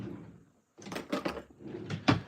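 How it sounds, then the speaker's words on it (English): A drawer is pushed shut in a model railroad workshop, giving a few quick sliding and knocking bursts close by, with a short quiet gap in the middle of the sequence. "let's put this back in the drawer"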